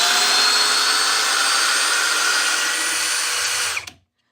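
A Ryobi power tool whines steadily at high speed for nearly four seconds, then cuts off abruptly and spins down to silence.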